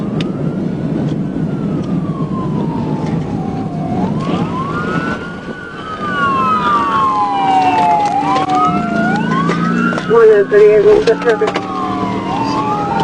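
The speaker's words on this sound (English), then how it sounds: "Yeah, I hear sirens." Wailing sirens rise and fall continuously over steady road and engine noise, loud and close, with a second siren overlapping near the end.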